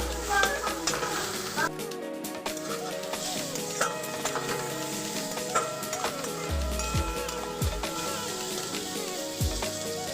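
Sliced bitter gourd and potato fry in a pan, with a soft continuous sizzle and intermittent scraping, clattering stirring strokes close by, and no voices.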